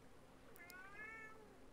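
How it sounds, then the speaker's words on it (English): A pet cat meows once in a rising and falling call, fairly close but quiet, over a steady low background hum with no talk. "letting my cat out of my room and hopefully she will stop meowing"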